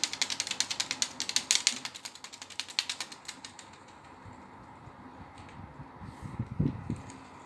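A paper pinwheel spins in front of an electric fan, giving a rapid ratcheting clatter that slows and fades after a few seconds into quieter whirring, with a brief low sound near the end.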